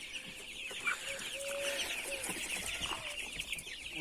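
Broiler chicks and grown chickens cluck and cheep steadily inside a coop, a dense close chorus of bird calls with scattered louder clucks throughout.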